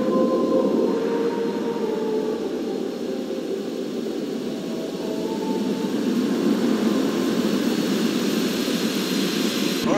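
A plane in a video game roars with a steady, loud jet-engine drone that holds evenly for the full length, with no voices over it.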